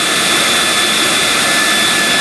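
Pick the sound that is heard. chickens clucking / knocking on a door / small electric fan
small electric fan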